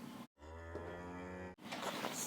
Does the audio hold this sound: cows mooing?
yes